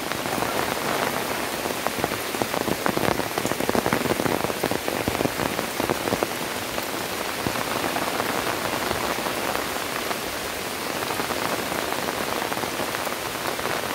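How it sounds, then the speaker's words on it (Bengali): Steady, loud rain pours down at a village home, a dense unbroken hiss of drops hitting surfaces nearby throughout, with no voices. "বৃষ্টির পানি।"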